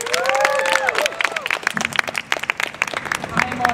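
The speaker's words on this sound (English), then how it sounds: "Let's start them off with a round of applause." An audience claps and cheers at a live improv comedy show, with bursts of applause mixed with voices and laughter over a few seconds.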